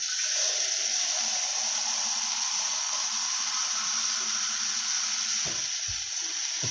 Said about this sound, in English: a pint of water to begin with, and we're going to add to it as it starts cooking